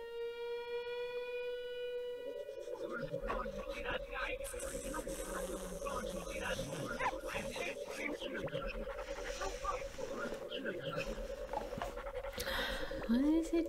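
Dog panting in the video game Gomo, rapid rhythmic breathy pants repeating over a sustained electronic tone and game music, fairly close and steady throughout.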